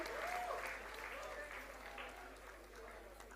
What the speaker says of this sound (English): parents and all the students kindly keep clapping, they deserve it